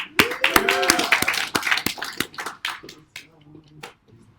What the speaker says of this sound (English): Keep that round of applause going for our next act,